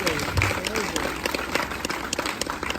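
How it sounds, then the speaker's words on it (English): Applause from the audience at a movie premiere, continuous crowd clapping mixed with chatter and voices close by. "please give her a round of applause"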